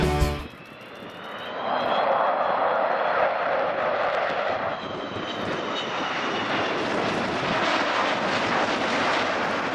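An Avro Vulcan bomber makes a flypast, rising from quiet into a loud, sustained jet roar with a rushing, howling tone that stays strong as the aircraft passes.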